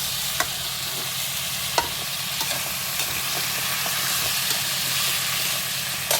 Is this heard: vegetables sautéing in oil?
yes